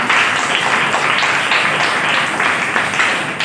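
Applause from a church congregation during a sermon: dense, steady clapping from many hands, loud and sustained for the whole stretch without a break.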